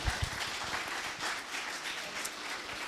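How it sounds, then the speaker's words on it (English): An audience at a panel discussion on candidate and employee experience gives a short burst of applause for the panelists: dense, mid-distance clapping that stays steady for about three seconds. "Can I have a big round of applause to our panelists?"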